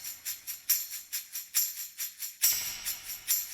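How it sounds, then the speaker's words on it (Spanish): A shaker and tambourine from a pop music production play a steady, bright, rhythmic pattern of crisp shaken pulses, with the tambourine jingles growing stronger in the second half. The parts are isolated and heard with no voices. "Hay un shaker y un tambourine que suenan así."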